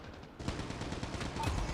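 Rapid automatic gunfire from the mobile shooter game COD Mobile, aimed at AI-controlled targets, starts after a brief quiet moment and runs as a dense, continuous burst of close, loud shots.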